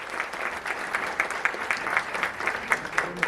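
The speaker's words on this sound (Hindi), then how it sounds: "एक बार जोरदार तालियां फिर से बजाइए नालंदा नृत्य कला महाविद्यालय के विद्यार्थियों के लिए।" An audience claps for dance students of Nalanda Nritya Kala Mahavidyalaya, a brisk crowd applause with sharp individual claps standing out, steady and fairly close throughout.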